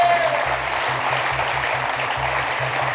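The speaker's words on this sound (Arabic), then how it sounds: "تصفيق" A studio audience claps on a television talk show, with dense, loud and steady applause running unbroken throughout.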